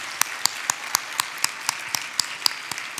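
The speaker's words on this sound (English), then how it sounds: "how about another round of applause for all 3 of our project finalists?" Audience applause for three project finalists at a Do Good Challenge finals event: crisp, evenly spaced claps in a quick steady rhythm, sparse and close rather than a dense roar.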